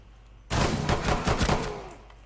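A loud, close burst of rapid automatic gunfire in the Rainbow Six Siege video game, shots rattling through a wall for about a second and a half before tailing off into a fading echo.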